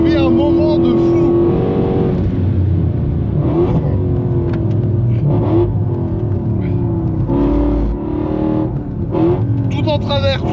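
A Mercedes C63 AMG Black Series drifts on a race circuit, its engine roaring loud and continuous with repeated revving rises and falls, while excited voices talk over it.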